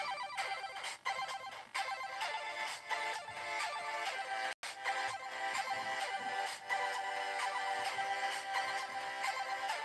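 Bright chords from a PO-20 Arcade pocket synthesizer ring out in a steady rhythmic pattern, electronic and tonal, with a brief dropout midway and no voices.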